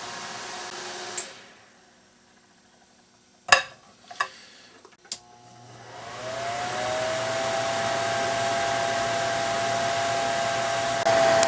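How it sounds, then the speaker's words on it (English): A microwave oven's fan motor runs with a steady blowing whir that starts up and holds at a constant level, with a rising motor tone, after a few sharp clicks and knocks in a quiet shop. "The fan runs, blows,"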